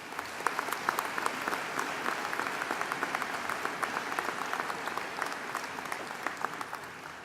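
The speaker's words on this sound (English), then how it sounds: "Let's give them all a big round of applause." Sustained audience applause fills an arena at a spring university commencement ceremony, steady dense clapping from a large crowd at moderate distance, with no talk over it.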